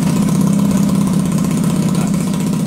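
A Honda motorcycle engine idles steadily and loudly up close, a constant low rumble with even pulsing and no talk.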